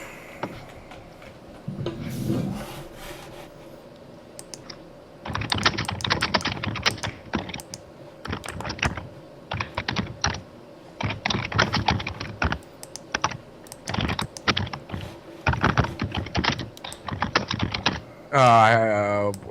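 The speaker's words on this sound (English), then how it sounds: "Is James typing a response?" Rapid clattering keystrokes on a computer keyboard come in bursts of steady typing with brief pauses, close and clear, with a voice speaking near the end.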